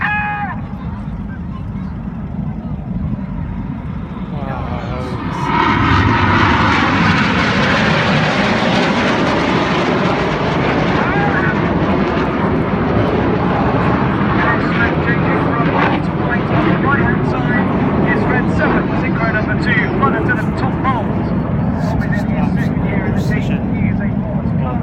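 Red Arrows jets flying a synchro roll at the Sunderland Air Show, a broad, steady jet roar that swells after a few seconds and holds loud and continuous, with a commentator talking over it.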